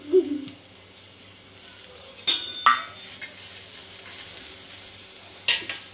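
A medium onion roasts in a little oil for shev bhaji, giving a faint, continuous sizzle broken by a few sharp clinks and scrapes of stirring utensils.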